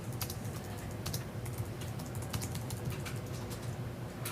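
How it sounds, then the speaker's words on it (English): Rapid typing on a computer keyboard in an office, with irregular bursts of key clicks over a steady low background hum and no voices. "if you do a mentor interview for John Doe, you can type that in,"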